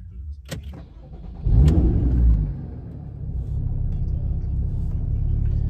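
Porsche Cayman 981 with sports exhaust starting up, heard from inside the cabin: a starter click, then a deep rumbling catch and brief surge that settles into a steady, low idle.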